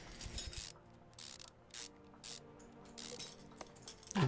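Engine parts being fitted in Car Mechanic Simulator 2015 on a V8 OHV, with a water pump, crankshaft and water pump pulleys, drive belts and a fan: soft mechanical clicks, clinks and ratchet-like bursts, brief and fairly faint, separated by quiet gaps.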